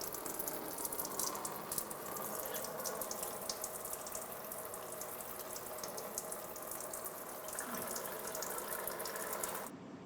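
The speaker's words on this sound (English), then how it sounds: "open it up, make sure you have a bucket under it, and start to drain the coolant" Coolant drains from the radiator of a 2000-2006 Toyota Tundra into a bucket as a soft, steady trickling stream that runs alone and stops abruptly near the end.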